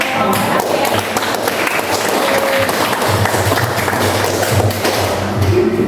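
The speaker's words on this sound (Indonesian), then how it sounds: "kita beri tepuk tangan dulu" A classroom of students claps for a presenting group, loud, dense, continuous applause close by with some thumps and desk taps mixed in, filling the whole stretch.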